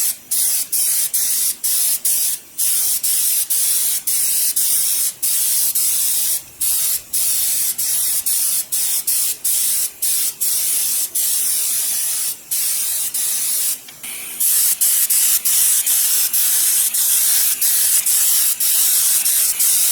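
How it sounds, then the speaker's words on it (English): A spray gun mists acetone-based stain onto concrete while a mural is being reconditioned, a steady loud hiss broken by brief regular pauses as the trigger is released and pulled again. "you can immediately start spraying onto your concrete."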